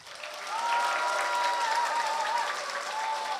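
A crowd claps steadily for several seconds, a dense sustained applause that fills the space without voices standing out.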